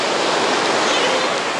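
Rushing water of a stream along a trail run course at Maresias, a dense, steady, broadband roar with no pauses, close by and fairly loud throughout.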